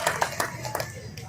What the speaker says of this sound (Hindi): आदरणीय सांसद रमेश विधुड़ी जी के लिए एक बार जोरदार ताली बजाकर अभिनंदन करेंगे।